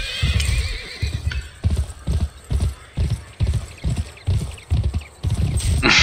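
Hooves clip-clop in a steady rhythm with repeated horse neighs and whinnies over them, from a horse in the PS2 Western video game GUN. The sound is close and fairly loud, with no talking.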